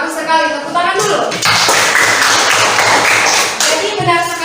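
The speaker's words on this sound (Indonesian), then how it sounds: "Bagus sekali, tepuk tangan dulu." Middle-school students in a classroom clap their hands together in a burst of dense, close clapping, with a teacher's voice heard at the start and end.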